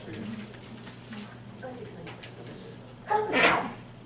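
A short, sharp sneeze bursts out near the end of a county board meeting, following a stretch of quiet murmuring and background hum.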